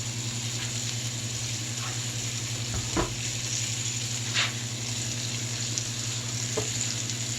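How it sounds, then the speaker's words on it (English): Onions sauteing in butter in a pan give off a steady, soft sizzle that holds through the whole stretch, with a few faint clicks and scrapes of stirring. There is no talking. "Just add them and saute them in the butter."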